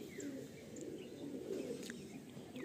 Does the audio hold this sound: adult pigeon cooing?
yes